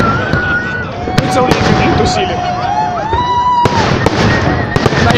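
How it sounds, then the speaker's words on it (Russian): City day fireworks display in Voronezh: whistling rockets rise and sharp bangs and crackles go off throughout, some close and loud, over a constant crowd murmur while people talk nearby. "Из День города только салют огонь."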